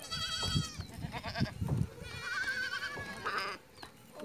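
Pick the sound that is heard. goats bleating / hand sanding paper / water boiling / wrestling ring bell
goats bleating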